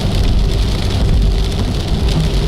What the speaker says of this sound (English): It is positively hissing with rain